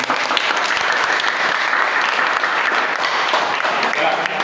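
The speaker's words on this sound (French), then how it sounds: "Maintenant, applaudissez-vous vous-même." A loud, dense round of applause fills the room as the audience at a French-language ENAA gathering claps for itself, steady and sustained throughout.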